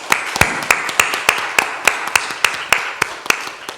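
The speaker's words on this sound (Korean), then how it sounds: "이들을 위해서 감사의 박수를 한번 하겠습니다" A church congregation claps during a Sunday service in a steady, even rhythm for a few seconds, individual claps merging into regular beats of applause.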